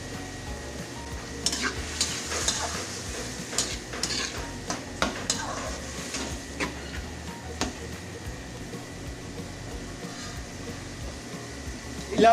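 Mushrooms frying in a pan before beef is added, with a steady close sizzle and repeated scraping and clinking of a utensil stirring against the pan.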